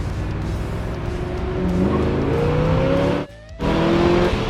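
A 1969 Corvette coupe with its original 350 hp engine revs up toward 5,000 RPM. The engine climbs steadily and loudly, drops out briefly in a short gap, then comes back strong.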